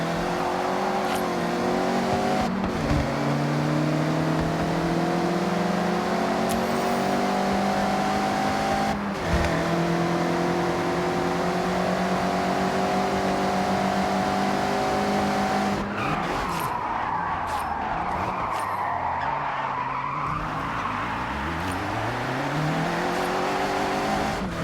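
A Mazda MX-5 racing in Forza Horizon 6, its engine revving steadily and climbing through the gears, with tire squeal and skidding as the car slides sideways through corners, loud and continuous.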